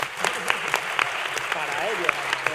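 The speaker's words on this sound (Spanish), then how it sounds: "Un aplauso para él." Short, light applause from a university audience, scattered claps rising above a voice that keeps talking over them.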